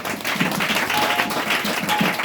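Church congregation applauding and cheering together, a dense, steady burst of clapping mixed with crowd voices, moderately loud and filling the room throughout.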